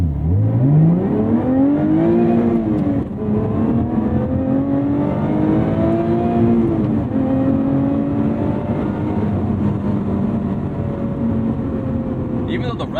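A 2018 Lotus Evora 400 engine pulls hard under acceleration, its loud, rising roar climbing in pitch through several gears with brief dips at each shift, heard from inside the car.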